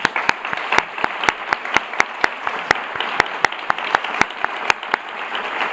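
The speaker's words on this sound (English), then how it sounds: "I want to recognize you with this applause for you." An audience at a pediatric innovation day event claps in thanks, sharp individual handclaps standing out distinctly over a softer bed of group applause, fairly close and steady for several seconds.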